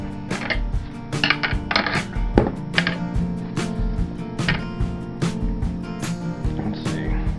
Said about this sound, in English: this next tomato, I'm going to cut with a deboning knife that I haven't put an edge on yet